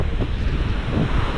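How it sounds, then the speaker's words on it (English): Big sea waves break and wash onto the shore in a steady, loud roar of surf, with wind buffeting the microphone throughout. "The waves are big."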